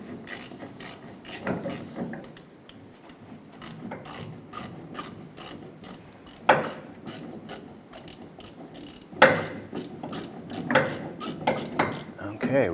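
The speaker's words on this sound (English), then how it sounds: "Go ahead and loosen this hose clamp here." Ratcheting clicks and metallic mechanism sounds while loosening a hose clamp on a 1994–2004 Chevrolet S10 fuel tank, in repeated close bursts with a few sharper knocks and occasional talk.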